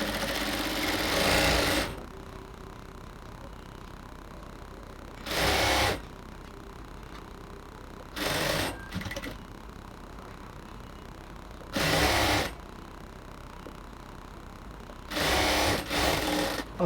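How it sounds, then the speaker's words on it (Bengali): A sewing machine stitches along a folded half-inch hem on a ladies' pant leg in several loud bursts, each running a second or so, with quiet pauses between them. "এবার উপরের দিক থেকে আমি শুধু জাস্ট হাফ ইঞ্চি পরিমাণ কাপড় ফোল্ড করে এরপর পুরোটাকে সেলাই করে নেব।"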